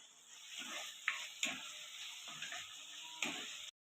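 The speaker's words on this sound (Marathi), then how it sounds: "ते पंधरा सेकंद आपण आलं चांगलं परतून घेऊया" Chopped ginger and softened tomato sautéing in a pan for dal tadka, a quiet, steady sizzle broken by soft rhythmic stirring strokes and a few light spoon taps.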